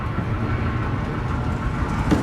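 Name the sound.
train passing in video game Amnesia: A Machine for Pigs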